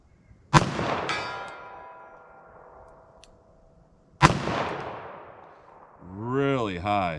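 Two loud, close gunshots from a .44 Special or .45 ACP handgun fired into ballistic gel at a range, each a sharp crack with a long ringing decay, followed by a muffled voice speaking.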